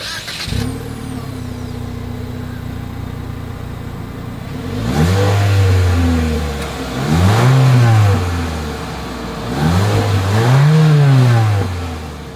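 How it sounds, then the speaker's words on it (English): A Mitsubishi Eclipse Cross engine idles low through a single exhaust, then revs up three times in rising and falling swells, each rev loud and throaty, with no talking. "As always, here is that exhaust clip."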